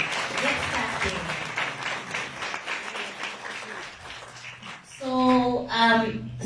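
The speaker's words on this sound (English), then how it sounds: "I think we need to just give a round of applause." Audience applause crackles through a meeting about a Zimbabwe trade mission, a few seconds of clapping from a room of people, followed by a voice speaking.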